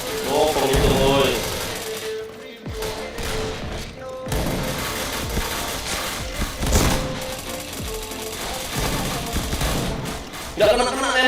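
Gunfire in a video game plays as a rapid run of shots and bursts, loud and continuous, with a voice talking over the shooting.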